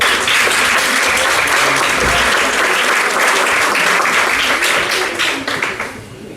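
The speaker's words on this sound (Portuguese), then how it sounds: "Vosso aplauso para o Paulo Borges." Steady applause from an audience welcoming speaker Paulo Borges at a Portuguese talk on global consciousness, dense and even throughout, tapering off in the last second or so.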